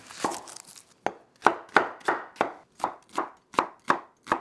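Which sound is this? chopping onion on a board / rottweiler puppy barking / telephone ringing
chopping onion on a board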